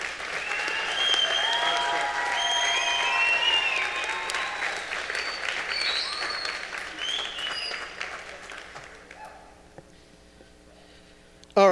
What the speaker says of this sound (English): Another round of applause for all of the people that we named.